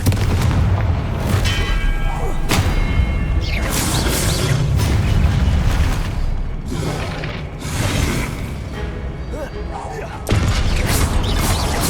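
Confringo fire-blast spells cast in Hogwarts Legacy go off as several loud booming bursts, spaced a few seconds apart over a dense wash of game sound.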